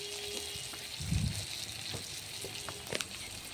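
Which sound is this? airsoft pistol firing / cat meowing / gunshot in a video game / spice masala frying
spice masala frying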